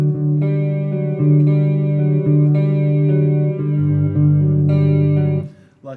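An electric guitar run through a chorus effect plays a song's chords, shimmering sustained arpeggiated chords heard alone, close and loud.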